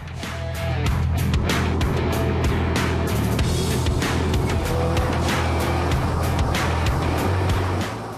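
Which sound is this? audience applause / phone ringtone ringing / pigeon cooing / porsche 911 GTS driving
porsche 911 GTS driving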